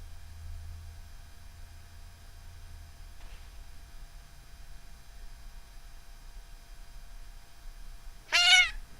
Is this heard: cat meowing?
yes